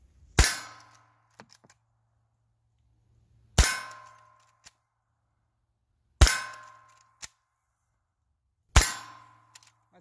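Four sharp rifle shots from a Henry Big Boy lever-action in .357 Magnum ring off a steel plate, each crack followed by a bright metallic clang that decays over about a second, evenly spaced with quiet gaps between.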